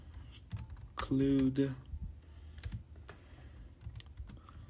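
Clicks from a computer keyboard are heard as C++ code is typed, light taps scattered through the clip close by, with someone speaking over part of it.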